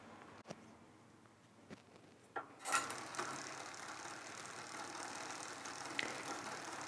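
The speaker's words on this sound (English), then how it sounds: "Return the derailleur back to the smallest sprocket." A bicycle rear derailleur shifting across the sprockets during limit-screw setup, heard as a few faint mechanical clicks followed by a sudden ratcheting clatter that settles into a steady whirring drivetrain hum, close by and without talking.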